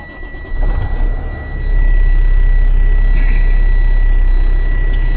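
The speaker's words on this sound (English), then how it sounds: "Now I'm going to safe start my engine to rebuild pressure." A Class A tractor-trailer's diesel engine (Eaton 10-speed) is started after an air-brake test, cranking briefly and then settling into a loud, steady, low idle rumble close by.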